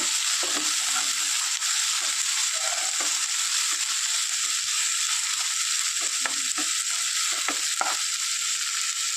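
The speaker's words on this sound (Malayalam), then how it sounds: "എന്നിട്ട് നന്നായിട്ടൊന്ന് ഇളക്കി യോജിപ്പിക്കുക" Onions sizzle steadily in a hot pan with ginger, green chilli and garlic for a mushroom masala, with a constant high frying hiss broken by scattered scraping knocks of a spoon stirring through.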